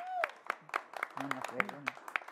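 An audience applauds for actress Susana Alexander, a scattered run of moderately loud claps with a voice talking over them.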